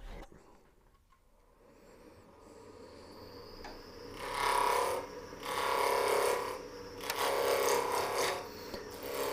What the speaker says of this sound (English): I'm just going to take a roughing gouge and true this up real quick